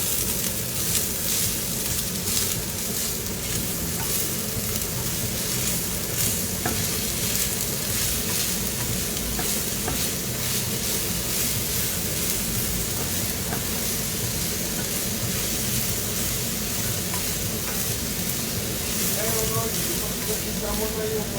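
Onion and garlic sauté steadily in a hot pan for lechon paksiw, a loud, continuous broadband sizzle with occasional stirring scrapes running unbroken throughout.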